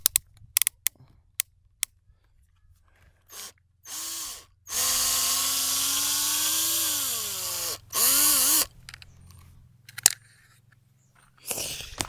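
A Parkside cordless screwdriver from Lidl, fitted with a bit, works screws on a Safrane windscreen surround. Several short whirring bursts and one longer run of motor whine, with a few clicks, are separated by quiet gaps.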